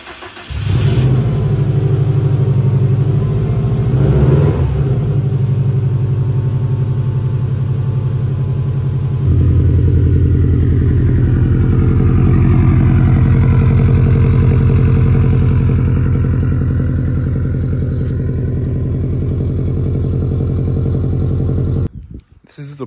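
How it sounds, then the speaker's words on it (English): A 2004 Subaru STI engine cranks and fires up, then idles and revs with a deep, loud, steady drone before cutting off near the end, with no talk over it. "We're just gonna go ahead and start the car"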